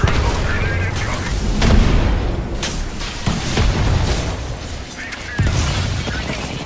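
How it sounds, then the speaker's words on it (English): A video game battle erupts with repeated booming grenade explosions and bursts of gunfire, under a player's voice. "Triple grenade incoming."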